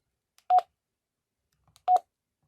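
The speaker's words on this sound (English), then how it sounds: "this is where we can adjust the ringtone if we send a call out" Two short electronic ringtone bursts from a BF-OG200 analog portable radio sending a call, each a quick double tone, spaced about a second and a half apart, clear and alone at a campsite.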